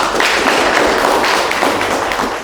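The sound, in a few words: applause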